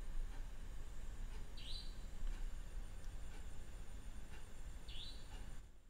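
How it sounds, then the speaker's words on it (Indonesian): Two short, high, rising chirps sound a few seconds apart over a steady hiss of background noise, fairly faint and slightly distant. "Kok ada bunyi burung itu? Kedengaran gak?"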